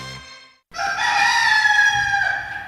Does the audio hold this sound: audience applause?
no